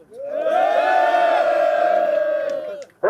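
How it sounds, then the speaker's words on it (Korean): A crowd at a Korean farmers' protest rally in Yeongam lets out a loud, sustained collective roar of cheering and shouting, swelling fast and holding for nearly three seconds before cutting off. "큰 박수 함성을 부탁드립니다"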